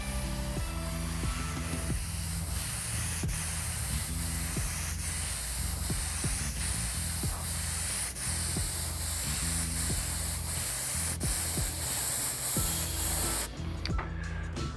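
An airbrush sprays paint over a stencil on a motorcycle fuel tank, giving a continuous close hiss with faint regular clicks and a brief break at the end.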